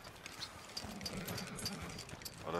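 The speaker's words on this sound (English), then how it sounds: "The horse is stomping on it." A horse stomps in Red Dead Redemption 2 online play, making faint, irregular hoof thuds and clip-clops under game ambience, with no clear talk.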